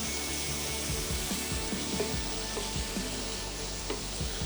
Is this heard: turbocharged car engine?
no